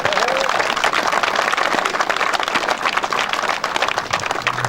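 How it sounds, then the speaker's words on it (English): Outdoor crowd applause at a junior A hurling final, dense steady clapping with scattered cheers filling the whole stretch, loud and close. "So Dave, a round of applause for Dave."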